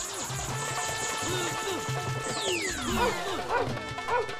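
In a Bangla children's cartoon, a dog barks and yips in short bursts, mixed with cartoon sound effects including descending whistles and swooshes, moderately loud, with voices of characters nearby.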